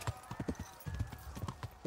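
A horse gallops in the video game Kingdom Come Deliverance, a quick, rhythmic clip-clop of hooves with a faint whinny and quiet talk underneath.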